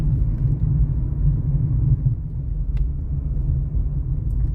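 A car drives along a newly built road to a hill temple, a steady low engine and tyre rumble heard from inside the cabin, continuous and fairly loud, with no talking.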